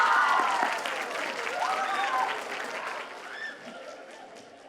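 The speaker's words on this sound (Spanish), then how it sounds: "A ella sí le van a aplaudir mucho." Applause from a school audience at a secondary-school reading marathon, a broad steady wash of clapping that slowly fades, with a few faint tonal sounds and voices mixed in.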